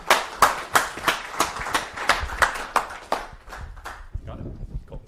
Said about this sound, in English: let's give a round of applause for Andrew McGarry from octoScope